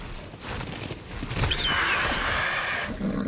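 Wild horse in Ark Survival Ascended letting out a loud, close whinny that rises and trails off over a couple of seconds, with hoof clip-clops and outdoor ambience around it.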